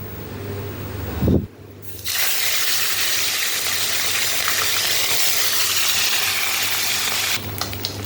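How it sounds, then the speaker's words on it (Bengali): Large puti fish (pool barb) dropped into hot oil, a loud steady sizzle that bursts up after a short splash-like thump and holds a continuous bubbling hiss close by. "আগে মাছগুলো ভেজে নিই।"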